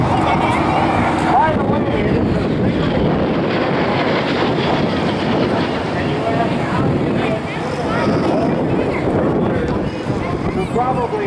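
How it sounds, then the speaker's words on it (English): A BAe Sea Harrier FA2 jet flying in at the Cleveland Air Show gives a loud, steady broadband roar mixed with heavy wind buffeting on the microphone, with an announcer talking over it throughout. "Joe and the Harrier making their way in from your right"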